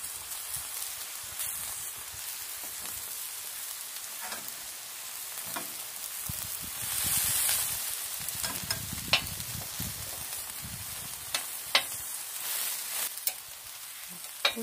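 Small tomatoes sizzling on a hot plancha griddle, a steady close frying hiss with scattered crackles and pops and brief scraping as they are turned, no talking over it.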